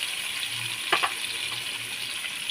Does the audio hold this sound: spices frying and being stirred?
yes